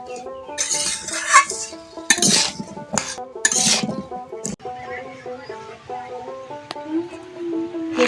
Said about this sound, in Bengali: এবার এপিট এপিট নাড়া দিয়ে এগুলো ভালো করে ঘুটে নেব।